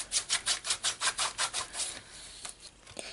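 Ruler burnishing a fold in cardstock on a triple easel card, heard as a rapid run of about a dozen rhythmic scraping rubs close up, then a few slower scattered strokes.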